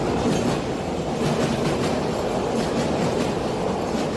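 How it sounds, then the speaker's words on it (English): A train rolls past nearby, a steady loud rumble and rushing roar of wheels on rail with faint clickety-clack, continuous throughout with no talking. "Okay, so there's a train going by."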